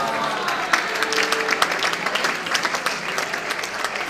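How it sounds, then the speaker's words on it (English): At a charity dinner dance, a crowd bursts into close, lively applause after a magic trick. Clapping and murmured voices blend together and continue throughout. "we'll just wait for the applause to die down"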